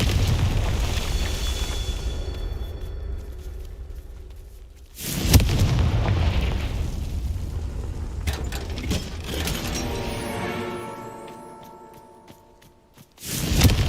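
A Confringo fire spell from the Hogwarts Legacy video game bursts in loud, booming explosions, one near the middle and another sharp blast at the end, with rumbling game effects between them.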